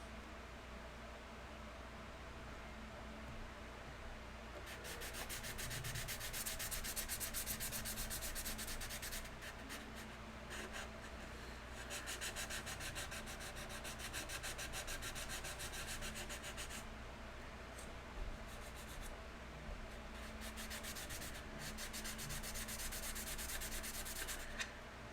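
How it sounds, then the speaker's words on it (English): Steady wet-sanding strokes in bursts over a constant low background hum, the scraping texture coming and going without talk. "So wet sanding actually does two things."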